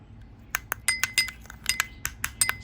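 A spoon mixes sugar into a papaya face scrub in a glass bowl, making about a dozen sharp, bright clinks in an uneven rhythm, close and clear with no talk.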